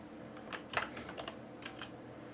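Someone types on a computer keyboard while entering spreadsheet data: soft, quick key clicks in a short, uneven burst, quiet and close in a still room.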